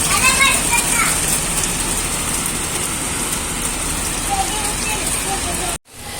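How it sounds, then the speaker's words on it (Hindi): Heavy rain pours steadily on a foggy morning in Ajmer, Rajasthan, a dense continuous hiss that fills the scene before briefly cutting out near the end. "जोर से बारिश आ रही है।"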